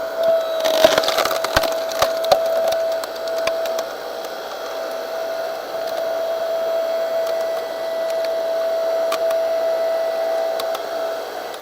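Ryobi 5 ton electric log splitter driving through a long, stringy log, a steady motor drone with a sustained whine, and sharp cracking and splintering of wood near the start.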